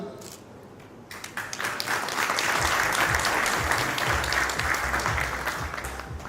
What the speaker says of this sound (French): Ensuite, on va applaudir également Jazouli Kenza, Talibi Younes